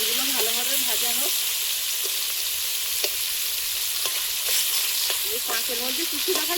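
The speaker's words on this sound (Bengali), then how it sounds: "মাছগুলো ভালোভাবে ভাজা হোক।" Pond-caught pakal fish (eel) frying in oil in a pan, a continuous close hissing sizzle with occasional light clicks, running steadily under brief bits of background speech and sounds.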